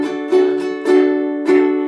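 Ukulele strummed in a steady down-up pattern from a song, bright chord strokes landing at regular intervals, close and clear with no talking.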